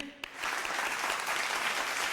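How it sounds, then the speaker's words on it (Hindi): A television studio audience at a Ramadan quiz show applauds in a steady, dense wash of clapping that starts abruptly after a brief pause and holds at an even level throughout. "तालियां होनी चाहिए"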